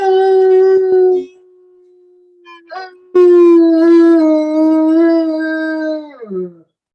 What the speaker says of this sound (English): Can you howl? A long one now, like you did this morning.